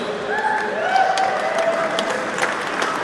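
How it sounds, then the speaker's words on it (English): A steady wash of audience applause with scattered claps, fairly loud and continuous, with faint whoops riding over the crowd noise. "Big round of applause for Dave, please."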